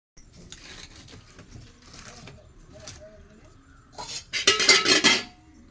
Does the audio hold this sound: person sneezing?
no